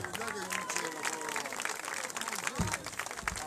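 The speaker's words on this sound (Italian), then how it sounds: "con il vostro applauso presentiamo il primo cantante di questa gara" An outdoor summer festival crowd at a local singing contest claps and applauds for the first singer, Flora D'Alfio, a busy, continuous patter with voices and background noise mixed in.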